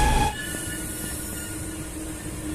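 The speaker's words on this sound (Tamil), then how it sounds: "பாருங்கள், ட்ரெயின் மூவிங்லேயே இருக்குது" Moving passenger express train running from Chennai toward Danapur, with a steady low rumble of wheels on rails inside the coach, after a brief louder burst at the start.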